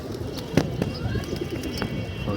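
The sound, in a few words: pigeons cooing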